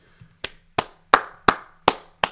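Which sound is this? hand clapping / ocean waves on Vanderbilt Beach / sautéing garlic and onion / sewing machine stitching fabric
hand clapping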